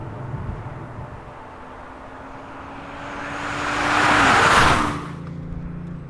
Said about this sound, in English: SUV launch from a standing start.